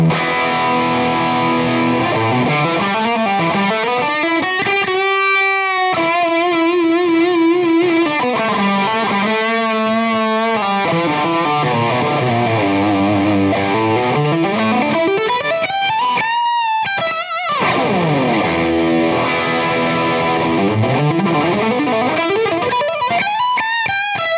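Rock guitar played through a valve amp set to gain two, a loud, continuous distorted tone with sliding bends, sustained chords and repeated riffs, plus a few brief muted breaks, with no talking.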